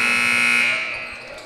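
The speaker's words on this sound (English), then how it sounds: "Buzzer sounds" A loud electronic buzzer blares at a high school basketball game in a gym, one sustained harsh tone lasting under a second before cutting off and fading into the hall's echo.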